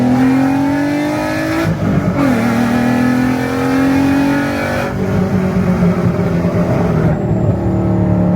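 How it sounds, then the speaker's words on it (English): A Volkswagen MK6 with a swapped 3.6 VR6 4Motion engine revs up and down repeatedly, loud and close, with pitch climbing and dropping through rev-matched gear changes. "We can get like a good rev match and run through the bridge here."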